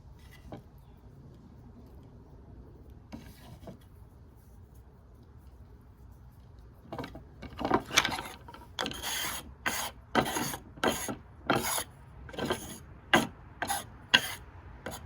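Twist tobacco being rubbed out by hand starts as quiet handling, then turns into a rhythmic run of close, dry, crackling rubbing strokes that grow louder, with no voices.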